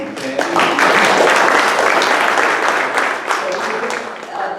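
Meeting audience applauding: dense, continuous clapping from many hands fills the room at full strength, then eases slightly toward the end, with a voice faintly audible underneath.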